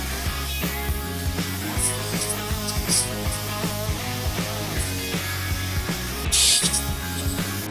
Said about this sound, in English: Just gonna put a coat of base on it.